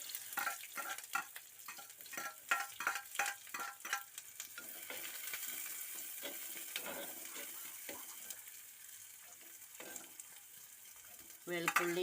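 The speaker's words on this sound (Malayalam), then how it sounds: "കടുക് പൊട്ടിക്കഴിയുമ്പോൾ നമ്മൾ സബോള അതിലേക്ക് ഇടുക" Sliced onion goes into hot coconut oil after mustard seeds have popped, giving a soft, continuous sizzle. Brief clinks of stirring come first, and the sizzle flares louder at the very end.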